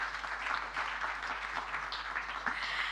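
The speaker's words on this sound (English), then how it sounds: "I think we can give the Deputy President a round of applause." A round of applause from the audience at the ATIDI annual general meeting opening ceremony, steady fairly faint clapping from a distance with a low hum underneath.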